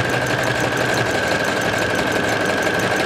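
An SQ 9100 sewing machine runs a zigzag stitch along the edge of a terry towel, giving a loud, steady motor whir with a constant mechanical hum and no pauses or voices.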